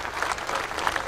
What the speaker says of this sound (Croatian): sve ove desetine tisuća ljudi pozdravljaju pljeskom